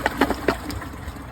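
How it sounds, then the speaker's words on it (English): A 2017 Kohler Wellworth Class 5 toilet flushes, with brief watery gushes at the start that settle into a steady, low rush of water as it drains and refills, heard up close. "let's give it this side view flush"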